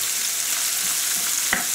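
Onion sautéing in a pan hisses with a soft, steady sizzle, and a single stirring scrape cuts through near the end. Close, moderate level, no voices.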